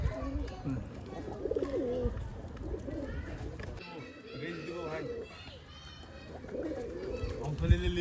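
Pigeons coo repeatedly at a Giribaj pigeon farm in Rajshahi, the soft calls rising and falling under steady human talk and background children's voices.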